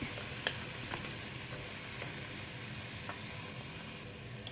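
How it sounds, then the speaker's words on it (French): Two spoonfuls of flour are stirred into browned veal pieces in a pan for a blanquette, a quiet steady sizzle with a few faint spoon taps and scrapes, close but soft. "là je vais mettre 2 bonnes cuillères à soupe de farine. Je vais mélanger."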